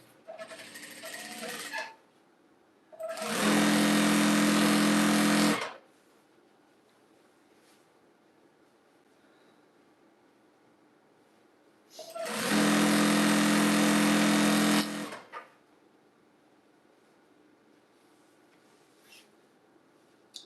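A sewing machine stitches jelly roll fabric strips together in two steady runs of a few seconds each, close and loud, with quiet pauses between them.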